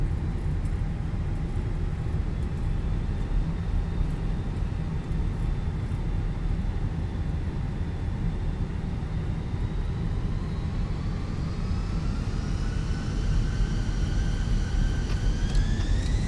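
Airbus A320 engines spooling up on the takeoff roll in a flight simulator, a steady loud broadband roar with a whine rising in pitch toward the end.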